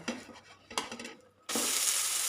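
A set dosa flipped onto a hot pan to cook its other side: two light clatters, then a sudden steady sizzle that starts and holds loud and close with no talk.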